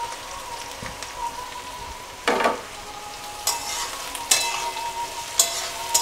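Yellow, green and red capsicums with four green chillies fry in a pan, giving a steady low crackle with a few sharper stirring scrapes and sizzling bursts; no one talks.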